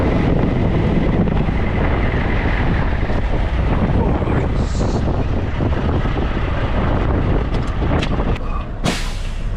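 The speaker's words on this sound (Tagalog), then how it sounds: "Windy guys, windy. Malakas ang hangin." Strong wind buffets the microphone in a loud, constant roar for the whole stretch, with a brief higher whoosh near the end.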